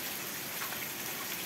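Steady rain falls in Lawang under overcast skies, a dense, even hiss of drops with no break, fairly loud and close, with no voices.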